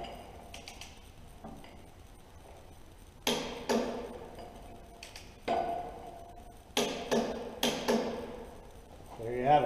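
A torque wrench tightens a saw blade fastener bolt, with a sawhorse blocking the blade's rotation: sharp metallic clicks and clunks come in short clusters over a quiet background.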